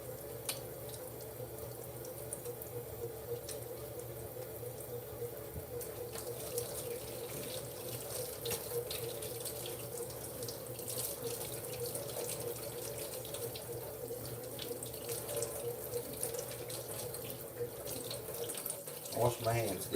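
A kitchen tap runs steadily into a sink while hands are washed beneath it, a close, even hiss of water that lasts throughout, with faint splashing near the end.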